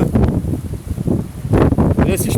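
Gusty wind buffets a handheld microphone outdoors beside the water, loud rumbling blasts rising and falling, with a person talking intermittently over it.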